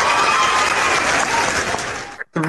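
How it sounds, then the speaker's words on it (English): A small crowd claps and applauds for a few seconds, fairly close, then the clapping cuts off abruptly and a voice begins speaking. "Everybody give him a hand clap."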